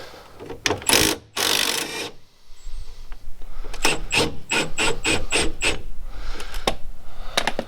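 A ratchet undoes axle bolts on a Mk7 Ford Transit, with loud, close rasping bursts followed by a rapid, evenly spaced run of clicks, with no talking.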